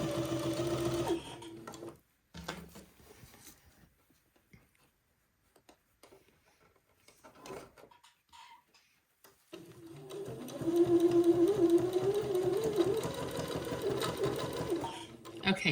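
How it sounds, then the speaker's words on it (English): Sewing machine stitching bias tape onto the leg opening of a jumpsuit, its rapid rhythmic whirring running in bursts at start and end with quiet pauses between, close and clear. "I'm just sewing right next to the edge of the bias tape and sewing this bias tape to the leg opening."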